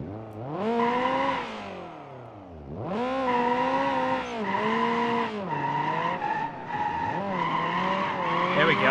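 Drift-spec Toyota Corolla in the BeamNG driving game, run with an open differential and a MOZA R9 steering wheel, sliding with loud sustained tire squeal over a revving engine, the skids swelling and dipping in several long passes.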